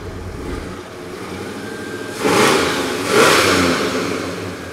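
A 1964 Ford Galaxie 500XL engine idles nearby, then revs up twice in quick succession, each throttle blip swelling loud before settling back toward a steady rumble.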